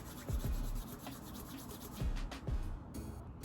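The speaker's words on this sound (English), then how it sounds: "take the bottom of my lock, put it in between my fingers, and then just rub the lock in between my hands" Hands rub the bottom of a distressed faux loc of hair between the palms, making soft, close, repeated brushing strokes in several bursts with no voice present.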